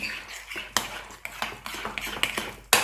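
A spoon stirs baby formula mixed with yogurt in a bowl, making quick, uneven clinks and scrapes against the sides at close range, with no talking.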